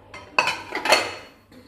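Ceramic plates clink and clatter as they are cleaned of spilled coffee grounds, a few sharp close knocks and rattles in quick succession, then quieter handling.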